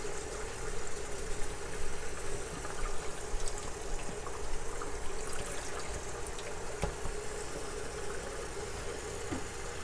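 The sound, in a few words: cold water rinsing macaroni in sink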